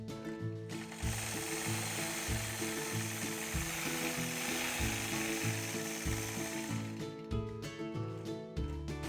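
A sewing machine stitches curved feather quilting lines along a ruler, a steady, close mechanical hum with a fast, even rhythm running for several seconds before stopping.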